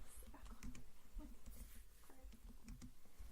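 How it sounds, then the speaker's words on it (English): Quiet, steady keyboard typing, a soft rapid patter of keystrokes close by, with faint room noise underneath. "Sorry, I'm typing."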